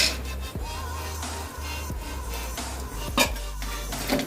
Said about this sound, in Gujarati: હવે જે આ બધી ડ્રાય ફ્રૂટ્સની બધી કતરણ મેં લીધી છે એ આપણે એને શેકી નાખશું.